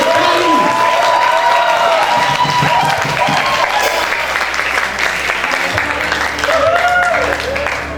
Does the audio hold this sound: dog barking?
no